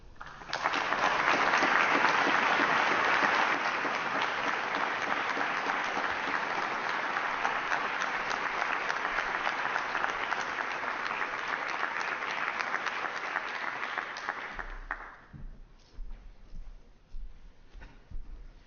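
Sustained audience applause welcoming a guest lecturer at a university hall, a dense even wash of clapping that holds for about fifteen seconds before thinning out into scattered claps and quiet room noise.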